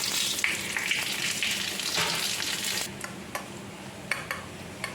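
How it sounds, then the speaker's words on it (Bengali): Bay leaf, cumin, panch phoron and two small dried red chillies hit hot oil left from frying fish, giving a loud, dense sizzle that dies back after about three seconds into quieter crackling with a few sharp pops, and no voice. "এই মাছ ভাজার তেলেই আমি তেজপাতা একটু জিরে একটু পাঁচফোড়ন আর দুটো ছোটো ছোটো শুকনো লঙ্কা ফোড়ন দিচ্ছি"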